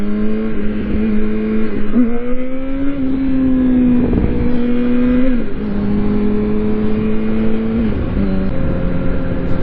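Power Wheels ride-on toy car with its electric motor whining steadily, pitch rising and dipping as it speeds up and slows, close by and fairly loud with no talking.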